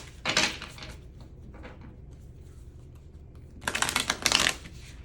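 A deck of tarot cards being shuffled, with a brief riffling burst at the start and a longer, louder stretch of flicking and riffling near the end, close up with no talking.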